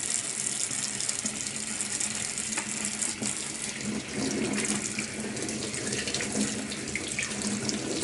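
Chicken thighs being rinsed under a running kitchen sink tap, a steady close hiss of flowing water with faint splashing and occasional small knocks, with no talking.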